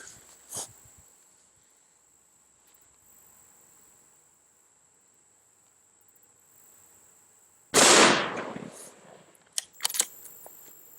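A loud, sharp .308 FMJ rifle shot, roughly 148 grain, from a Savage Axis rifle strikes an AR500 steel Level III armor plate, followed by a few smaller impacts and rattles; a steady insect-like whine hums in the background.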